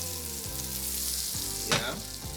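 Mushrooms sautéing in a pan for an onion, mushroom and cheese omelette, a steady close sizzle with a brief scrape of stirring near the end.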